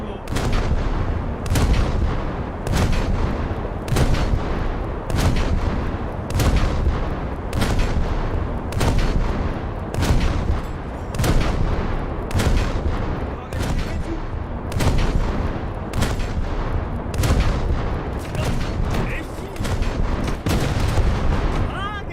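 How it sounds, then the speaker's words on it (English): Repeated heavy naval gunfire from a German destroyer in a warship combat game, roughly a dozen loud booming salvos at a steady rhythm, each with a long rumbling decay, close and dominant throughout. "German destroyer was shooting me"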